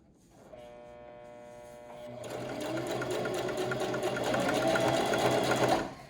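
A sewing machine stitches stretched elastic onto t-shirt fabric for a mask, running in a steady, close buzzing whir that picks up speed after a brief slower start and stops abruptly at the end.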